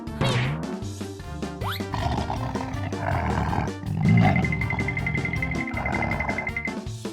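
A cartoon leopard in a children's animated episode lets out a loud, sustained roar over dramatic background music, with crashing impact effects midway and no speech.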